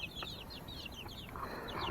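A Cream Legbar hen clucks in a few soft, quick chirpy notes close by, over a light outdoor background hiss.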